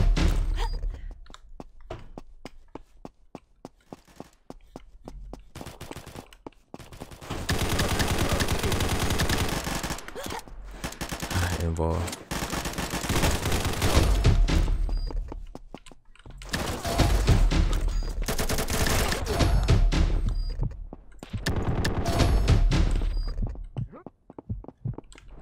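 Rapid automatic gunfire in a video game, long dense bursts of close, loud shots broken by short gaps and a few isolated single shots, with no talking.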